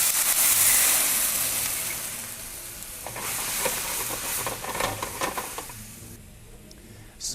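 White wine poured into a hot pan with mustard, bursting into a loud hiss of sizzling and steam that gradually eases, with clinks and stirring close by and no talking.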